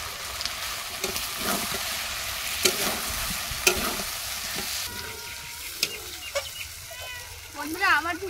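Duck meat being stir-fried in a pan gives a close, steady sizzle with repeated clattering scrapes of a utensil, while chickens cluck in the background near the end.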